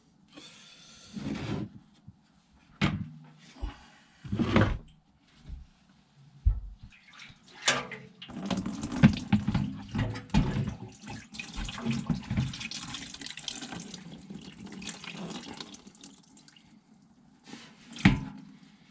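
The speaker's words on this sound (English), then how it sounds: "And it just suggests you just drain out the liquid." Rust treatment liquid drained from a Kawasaki ZX10 motorcycle fuel tank, heard as intermittent splashing and gurgling pours that swell into a steadier running trickle, close by and alone.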